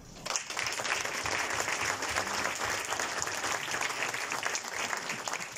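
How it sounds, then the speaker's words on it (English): An audience gives a round of applause at a talk about architects, steady dense clapping that fills the whole stretch at even strength with no speech over it. "I'd like you to please join me for a round of applause for Mark."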